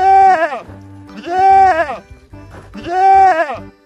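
A sheep bleats three times at even intervals, each call loud, close and wavering, with brief quieter gaps between them.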